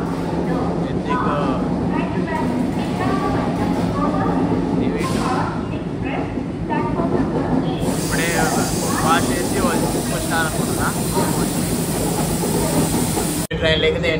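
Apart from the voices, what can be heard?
Visakhapatnam to Araku vistadome coach train moving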